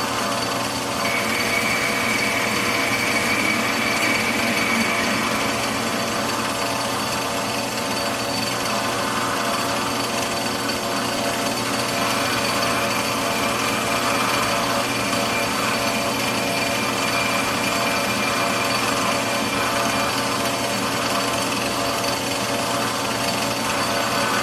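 A metal lathe facing a part to length for a banjo build, giving a steady, loud machine whine with a constant cutting hum that holds throughout at close range, without any talking.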